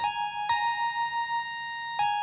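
A sustained synth tone with a gentle beating wobble from a second oscillator detuned 11 cents, retriggered twice, playing alone.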